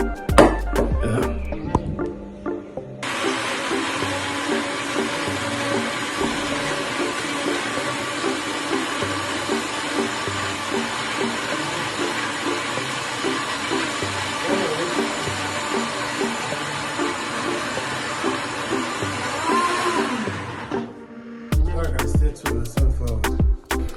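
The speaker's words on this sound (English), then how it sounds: "So now I'm gonna get it in a blender over there." Blender whirring through coconut to make coconut milk in a home kitchen, a loud steady motor roar running about eighteen seconds, starting and stopping abruptly, with no talk.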